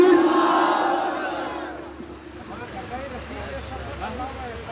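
A large crowd at an outdoor religious conference roars a chant in reply to a call, a loud swell that fades after about two seconds into murmuring voices and talk.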